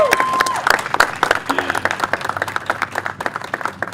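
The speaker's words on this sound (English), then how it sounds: "Can we get a round of applause for how hard the people of the eastern side of the district worked and how well you did?" Crowd applause at a political campaign event, dense rapid clapping from many hands sustained steadily, with a faint voice briefly audible underneath.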